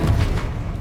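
A fire spell cast in the Hogwarts Legacy video game erupts as a short, loud burst with a heavy low thump at the start that quickly settles into a rumbling roar.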